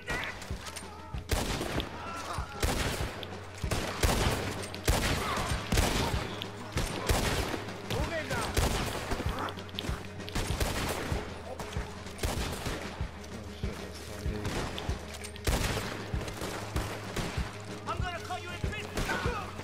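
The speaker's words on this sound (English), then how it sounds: "I'll try to shoot the rope." Rapid, repeated gunshots from Red Dead Redemption 2, fired at a rope, crack out loudly in irregular volleys throughout, with background game sounds and voices mixed in.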